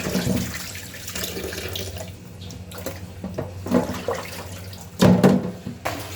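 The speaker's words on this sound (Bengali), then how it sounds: "মাছও কেটে কুটে ধুয়ে নিই" Tap water runs steadily into a sink while pieces of cut hilsa fish are rinsed by hand, with splashing surges and bumps of handling over the continuous flow.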